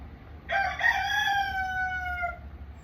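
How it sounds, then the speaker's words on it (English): A single rooster crows once, a long drawn-out cock-a-doodle-doo lasting about two seconds, fairly clear against quiet background hum, with no talking. "Listen to my roosters."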